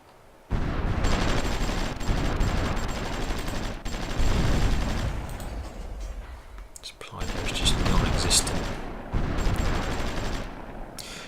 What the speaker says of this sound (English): that's my battleship off the coast, bombing them there or hitting them from long range